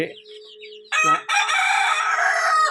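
Native hens and Karinkozhi chickens at a small farm, with a high cluck or chirp first, then a loud, close rooster crow held for over a second.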